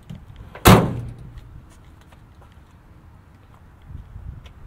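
A single loud metallic clunk as the tailgate of a 2000 Toyota Tundra SR5 V8 pickup truck drops open, followed by a faint ringing decay and quiet shuffling.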